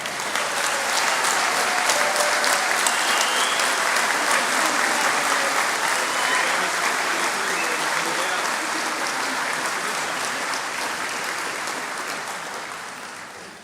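A graduation conferring ceremony audience breaks into sustained, loud applause with cheering, the dense clapping holding steady before tapering slightly at the end.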